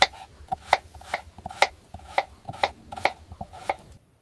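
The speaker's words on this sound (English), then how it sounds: "peel the potatoes and cut them into medium sized cubes" Knife chopping boiled, peeled potatoes into medium cubes on a board: about ten crisp, evenly spaced chops, close and clear, with no voices.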